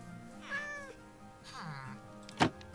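A cat in the video game Minecraft meows twice, each call clear and drawn out, followed by a short soft thump, set against quiet game background sound with no speech.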